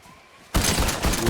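In the Fortnite video game, the Blaze bundle gun opens fire after a quiet moment, unleashing a loud, dense, sustained burst of rapid shots that continues to the end.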